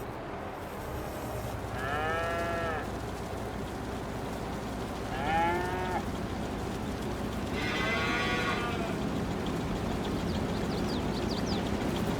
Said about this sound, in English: Keeps the cows happy.